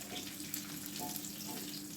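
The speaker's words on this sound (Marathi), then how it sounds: "परत एकदा तेलामध्ये अजून खरपूस भाजून घेऊया" Peanuts roast in hot oil in a pan, giving a steady, close, dense sizzle that continues unbroken throughout.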